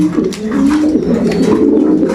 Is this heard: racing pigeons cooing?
yes